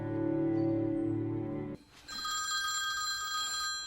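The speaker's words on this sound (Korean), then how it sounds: "이때 갑자기 걸려오는 한 통의 전화." A telephone rings for an incoming call: a sustained, loud electronic ring, then a brief break, then a higher-pitched ringing tone, heard close and without speech.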